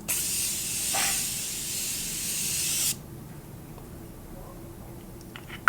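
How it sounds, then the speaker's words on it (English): A Morphe Continue setting mist sprays in one long, steady, close hiss of about three seconds, which then stops abruptly and leaves faint room noise. "I'm going in with this Morphe Continue Setting Mist"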